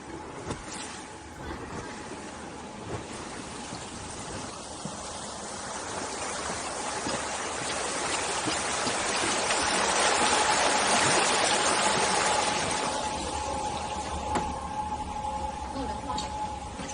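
A boat glides across placid Hanxian Lake on a cold day, its steady rush of water and motor swelling gradually louder toward the middle, then easing off slightly, a constant broadband wash.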